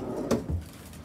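A hotel room drawer slides and bumps shut in one quick wooden movement, close and fairly clear, with no one speaking.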